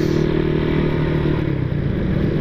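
A Honda Tiger motorcycle engine runs loud and close, with a steady, throbbing, rattly exhaust note that holds high without pause.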